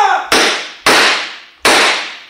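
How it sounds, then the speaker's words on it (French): Three sharp gunshot sound effects in a French Sherlock Holmes radio drama, loud cracks each with a quick decaying echo, spaced roughly half a second to a second apart. "Tirez, Watson, tirez"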